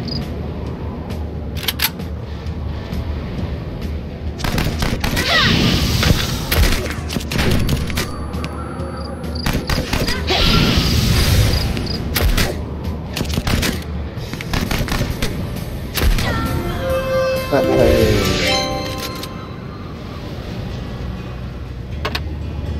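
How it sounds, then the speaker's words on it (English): Powerful gunfire in the video game Home Behind 2, rapid bursts of loud shots and booms repeating through a busy battle, with game effects layered underneath. "That gun's pretty powerful, eh, when he gets his stat increase going."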